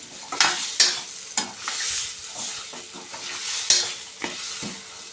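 Tomatoes fry in a pan while a utensil stirs them, giving a steady sizzle broken by sharp scraping strokes and occasional clinks of metal against the pan at irregular intervals.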